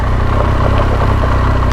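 Motorcycle engine on a ride through Sardinia, a loud, steady, close drone with a constant throb and no pauses or talk.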